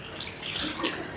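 River water in Barangay Calawis, Antipolo City, where people wash laundry and bathe, gives a brief, close splashing and running-water wash with no voices.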